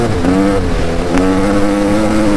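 An engine revs up steadily, its strained harmonic tone climbing and holding loud and close, the smelly two-stroke starting to gain RPM with no voices over it.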